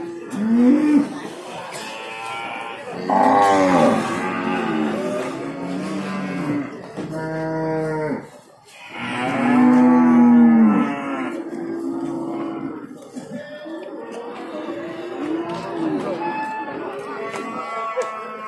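Breeding cows at the Prambanan livestock market in Klaten, Indonesia, let out several long, loud, drawn-out moos one after another, with a pause between them, over busy market background noise.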